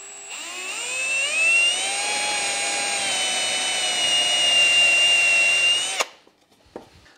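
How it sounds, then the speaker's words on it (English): A power drill countersinks and bores pilot holes in an oak joint for coffee table legs, giving a close, loud, steady whine for about six seconds before it cuts off abruptly. "now that I have my holes countersunk and my pilot holes aligned exactly in my joint"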